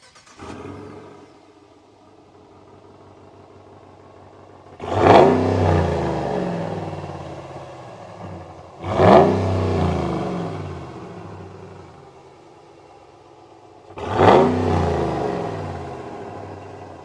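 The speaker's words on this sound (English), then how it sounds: "if you choose the HEMI model, you get a standard sport exhaust" A 2026 Ram 1500 Big Horn HEMI V8 truck idles with a deep rumble, then its sport exhaust revs sharply three times, each roar easing back to idle.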